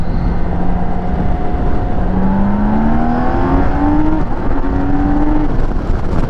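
A BMW K1600B six-cylinder cruiser motorcycle pulls hard, its engine whine rising through several gears in clear steps, heard close and loud from the rider's position over steady wind rush.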